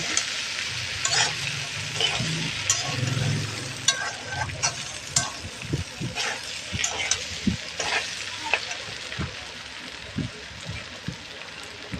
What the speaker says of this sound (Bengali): এই ডালটা দিয়ে আলুটা দিয়ে খুব ভালো করে না আমি ভেজে নেব